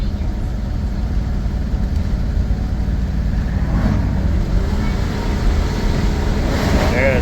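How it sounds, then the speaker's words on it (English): A troubled car engine that barely runs labours in low gear, giving a steady, heavy, droning rumble that stays loud and unbroken with wind buffeting in the background. "I really don't want to push this engine too hard though"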